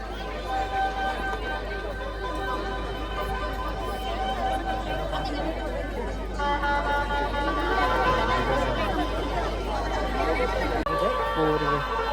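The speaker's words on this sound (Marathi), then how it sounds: "गर्दी तर भरपूर आहे" Dense crowd chatter at a village haldi ceremony in Asnoli, many voices overlapping in a continuous babble with footsteps and movement, steady throughout.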